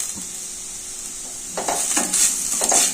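Carrots frying in a pan over a high flame, a steady hiss and sizzle with a few scraping stirs of a utensil against the pan near the end.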